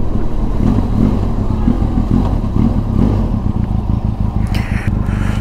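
Engine of a Benelli TRK 502 X adventure motorcycle pulling in sixth gear as the throttle opens, a steady close droning hum with road noise and a brief clatter near the end.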